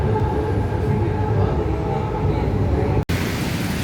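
A Hyderabad metro train runs with a steady, loud broadband roar of wheels and carriage noise, unbroken except for one sharp momentary drop near the end.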